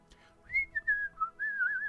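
A voice whistling a short, bright tune in imitation of a character strolling along a street, a few rising and falling notes with brief breaks, close and clear.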